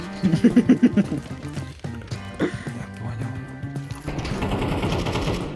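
Shotgun fire in Counter-Strike: a quick, near string of about five sharp blasts opens, followed by scattered shots and rising game noise.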